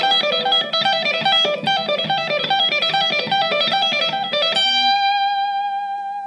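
Electric guitar with effects plays a fast four-note hybrid-picked lick, repeating in a quick, even cycle for several seconds, then ends on a sustained ringing chord that fades, close and without talk.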